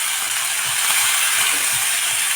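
Dhekia fern greens and raw onion fry in a pan with a loud, steady hiss and crackle, and faint stirring or scraping pulses sit beneath it.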